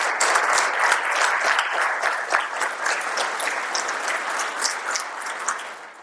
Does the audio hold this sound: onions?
no